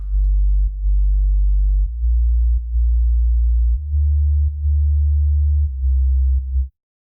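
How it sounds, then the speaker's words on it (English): A deep, sustained synth bass plays solo in long held notes with brief gaps, its low tone gritty and slightly distorted from a short sidechain compression release. "solo the bass, I'm getting some weird distortion kind of happening"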